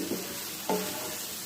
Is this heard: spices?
yes